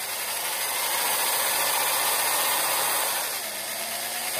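A power drill whines steadily and loudly, grinding continuously into a metal Rough Ryder nail nick tool before its pitch shifts slightly near the end.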